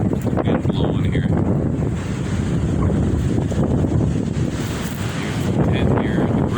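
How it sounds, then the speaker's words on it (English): Strong coastal wind during a windstorm roars steadily and loudly into the microphone, buffeting it continuously with rumbling gusts and faint surf-like noise underneath. "Wind blowing here."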